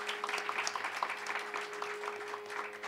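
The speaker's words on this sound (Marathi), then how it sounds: "त्यासाठी जोरदार टाळ्या झाल्या पाहिजे." An audience at a Hindustani classical music evening claps steadily, a dense patter of many hands at moderate distance, with a faint steady hum underneath.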